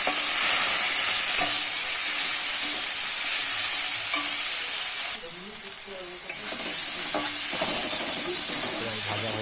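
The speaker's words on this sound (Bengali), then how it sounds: "এবার এর থেকে ঢেলে দেওয়া হলো টমেটো, গাজর ও পেঁয়াজ, ধনে পাতা। এটাকে ভালো করে ভেজে নিতে হবে।" Tomato, carrot, onion and coriander fry in hot oil in a pan with a loud, steady sizzle and hiss, broken by a brief dip and soft stirring scrapes.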